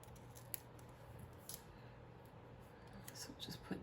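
Scissors cut paper while setting up a minimalist planner page, with several soft, brief snips spaced apart over a quiet room tone and faint low murmuring.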